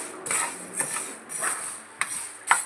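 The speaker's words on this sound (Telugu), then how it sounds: "మంచి స్మెల్ వచ్చేంత వరకు అయితే ఇలా వేయించుకోవాలి" Spices dry-roasting in a pan, a spatula scraping and tapping against the metal in a steady rhythm of about five strokes, close and fairly loud, with no talking.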